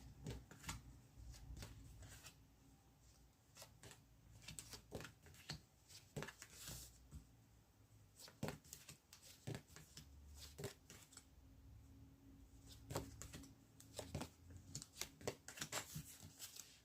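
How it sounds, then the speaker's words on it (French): Tarot cards being shuffled and drawn by hand, close up: rapid papery riffles, flicks and soft slaps come in irregular bursts with short pauses between them. "Donc maintenant, on va tirer des cartes sur l'illusion."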